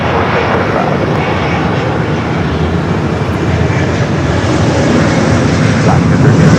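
A jet airliner takes off from runway 24 Left at Los Angeles International Airport, its engines giving a loud, steady, broadband roar that holds unbroken throughout, with a faint voice underneath.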